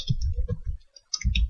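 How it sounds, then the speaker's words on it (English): Keystrokes on a computer keyboard while entering spreadsheet functions, a quick run of close, soft clicks with a brief pause before another burst of typing. "I'm typing here"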